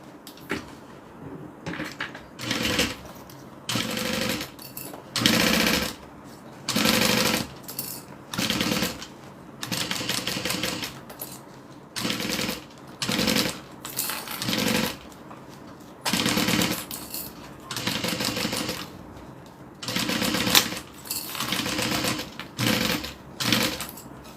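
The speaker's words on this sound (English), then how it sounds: "And then sew that on." Short bursts of sewing machine stitching attaching fabric pieces of The Denver by Swoon bag, a dozen or so runs of a few seconds each, separated by pauses, close and fairly loud.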